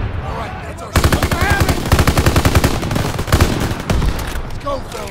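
Rapid bursts of automatic gunfire rattle loudly and almost continuously in a Call of Duty WW2 battle at a garrison gate, with brief lulls between volleys and a voice speaking underneath.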